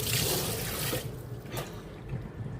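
Bottle gourd leaves are washed under a running tap. The water gushes steadily and close, then eases to a softer flow with light splashes.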